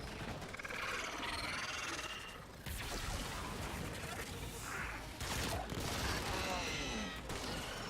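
Video-game gunfire crackles in rough bursts through a dense, noisy battle mix, fairly loud and near, with voices talking over it.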